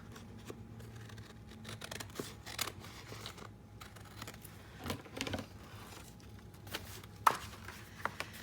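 Scissors cut off the excess flap of a paper file folder being made into a small lapbook, a series of brisk snips and crisp paper sounds recurring over several seconds, close and fairly quiet, with no talking.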